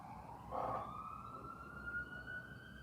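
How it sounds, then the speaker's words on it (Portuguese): Ambulance siren wailing in a steady rising tone, moderately loud and somewhat distant, with faint street background and no talk. "Ambulância."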